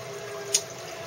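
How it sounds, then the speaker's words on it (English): An aquaponics bell siphon drains water and kicks up air bubbles, giving a steady close rush of flowing water with one brief bubbling burst partway through. "the bell siphon, when it drains, kicks up air bubbles and puts air bubbles into the water"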